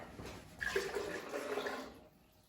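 Water pours into a cooking pot set up for braising a whole venison hind quarter, a continuous splashing stream lasting about a second and a half at close range before tapering off.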